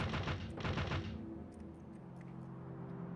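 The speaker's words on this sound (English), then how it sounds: "Let's set off some fireworks." Artillery shells fire in the Factorio video game: two quick, dense, rumbling bursts of shots in the first second, then a fading low hum.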